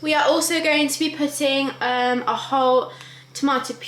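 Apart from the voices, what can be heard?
No everyday noises stand out.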